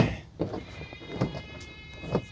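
Goats bleat three times in short, spaced-out calls over a quiet background.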